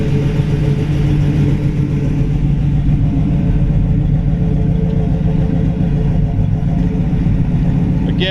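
A 1940 Ford Deluxe Coupe all-steel hot rod runs steadily up close, its engine giving off a loud, continuous deep rumble with an even, throbbing beat throughout.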